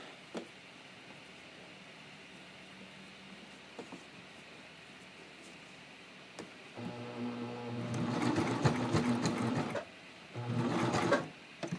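A coverstitch machine sews a triple cover hem on a neckline in short stop-start bursts, quiet handling and pauses giving way to two close, loud runs of rapid stitching near the end.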